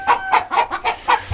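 Penned chickens on a farm with dirt floors cluck in a quick rhythmic series of six or seven loud, close clucks.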